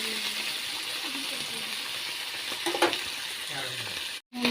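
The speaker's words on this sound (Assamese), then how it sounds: "মাছখিনি মই লৰাই দিম" Small fish fry in a pan with a steady, fairly faint hiss, broken by a few soft stirring scrapes and a short clink near the end.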